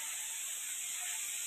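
Pointed gourd (potol) frying in a pan gives a continuous, even hiss of sizzling oil, close and moderately loud with no talk.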